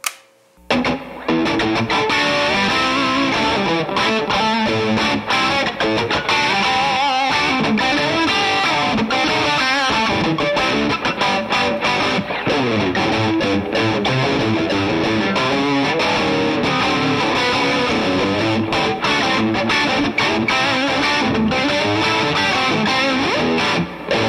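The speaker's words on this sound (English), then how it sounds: "now we're going to kick on some distortion and give us a chance to hear what that sounds like" A heavily distorted Fender Telecaster American Standard electric guitar plays continuously, loud and close, with a thick, saturated tone and sustained chords throughout.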